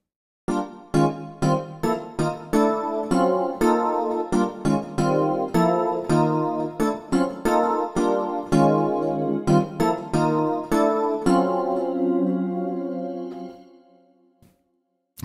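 A MIDI harmonizer turns one repeated keyboard note into chords: a long run of plucked electronic chords struck at a steady, slightly uneven pace, close and clear, ending on a sustained chord that fades out, with no talking.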